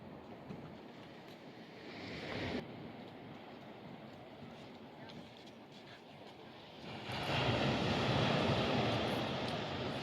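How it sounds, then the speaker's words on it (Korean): Ocean waves break on a small beach in Acadia National Park, Maine, making a steady, loud broadband roar that swells noticeably louder for the last few seconds, with no voices. "작은 비치에서 파도 소리가 꽤 크네요"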